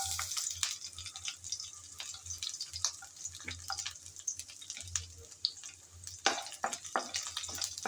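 Chopped garlic frying in hot oil with panch phoron makes a soft, steady sizzle, broken by scattered spoon clinks and stirring scrapes close by, with no talking.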